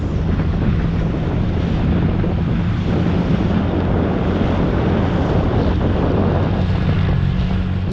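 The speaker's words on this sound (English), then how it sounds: "it's a very cold ride just because I'm exposed to this wind" Cold wind roars steadily across the microphone during a scooter ride near Luang Prabang, Laos, a loud, constant buffeting rush with a low engine drone underneath and no talking.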